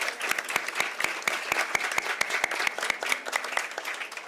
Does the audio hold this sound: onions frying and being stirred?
no